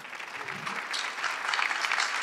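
Studio audience applause on a Turkish TV talk show, building steadily from a softer start into a dense, sustained patter of many hands clapping with no pauses.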